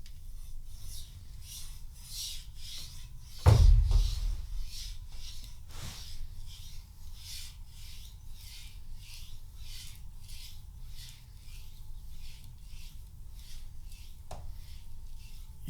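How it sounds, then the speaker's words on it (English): A knife blade is rubbed back and forth on a sharpening stone to remove the burr, making a soft, repetitive scratching in steady strokes with one sharper knock near the start. "as I turned, it was a little bit scratching, which was the burr created from the other side"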